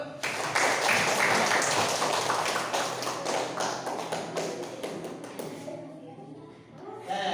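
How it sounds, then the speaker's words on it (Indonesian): A classroom of students breaks into loud, dense applause that runs several seconds, then thins out and dies away, with a few voices rising faintly at the end. "tepuk tangan dulu"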